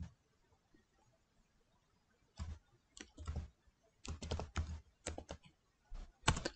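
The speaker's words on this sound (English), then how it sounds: "You need to type about semicolon profiles." Keys clatter on a computer keyboard after a quiet start, in short irregular bursts of close, crisp clicking with pauses between words.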